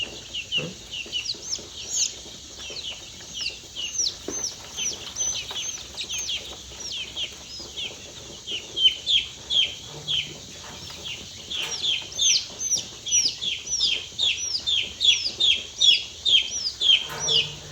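Chicks held for vaccination in poultry-rearing crates cluck and chirp rapidly and continuously nearby, with the calls growing busier and louder toward the end.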